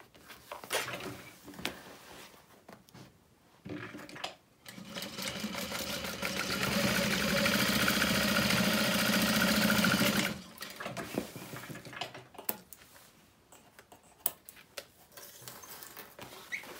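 A domestic sewing machine runs a steady, even burst of top stitching on a handbag for several seconds, preceded and followed by fabric handling, clicks and small adjustments.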